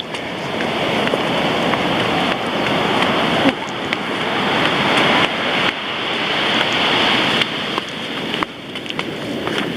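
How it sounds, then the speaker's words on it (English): Continuous roar of ocean surf crashing and washing in on the Napali Coast, Kauai, loud and close, with broadband noise that swells and breaks every few seconds. "Keep an eye on the waves."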